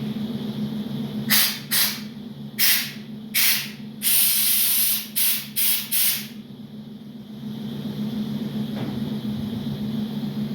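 Compressed air from an air chuck blasts through a tractor fuel screen in a Farmall shop, seven short hissing bursts in quick succession over a steady low shop hum, then the hum continues alone.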